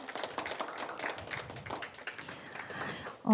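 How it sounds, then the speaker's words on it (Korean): Scattered clapping from an audience at a biodiversity policy forum, greeting the presenters; moderately loud, uneven taps across the room, ending with a brief louder sound. "다시 한번 고생해 주신 오충현 교수님과 김일권 위원님께 큰 박수 부탁드리겠습니다"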